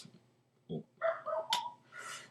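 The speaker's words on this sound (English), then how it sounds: "My dog is barking like crazy." A pet dog barks several times in quick succession indoors, sharp nearby yelps with short gaps, fairly faint and alone without talk.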